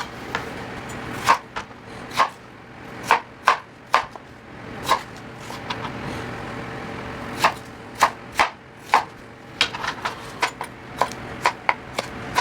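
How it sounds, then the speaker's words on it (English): Knife quartering green tomatoes on a cutting board for a spicy chutney: sharp, close chops land in uneven bursts, sometimes paired, sometimes spaced, over quiet kitchen background. "by quartering our green tomatoes"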